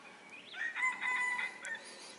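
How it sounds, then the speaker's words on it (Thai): A rooster crows in the morning over a hill valley near the Myanmar border at Pang Mapao, Mae Hong Son, Thailand. The one drawn-out crow is moderately loud at middle distance, with a faint second call near the end. "เสียงไก่ขันยามเช้าครับบรรยากาศสุดยอดครับ"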